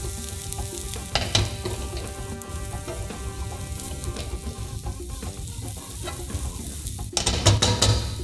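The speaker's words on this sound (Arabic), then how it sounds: "الحين بس عطينا البصل شوية لون" Onions frying in butter give a steady, broad sizzle throughout, with occasional spoon scrapes and stirring bumps, louder near the end, and no voices.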